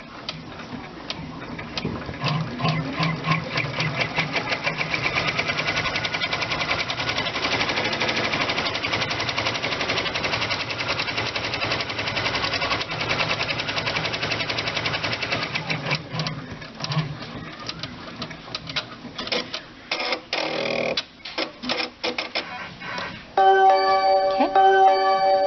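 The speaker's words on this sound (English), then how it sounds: "So then I'll just hit lock and start. And it's going to do a run stitch for me to show me where to place my fabric." An Enterprise 10 needle embroidery machine sews a run stitch in a fast, steady rattling rhythm that runs loud and continuous, then turns choppier with brief pauses toward the end before closing on a few beeps.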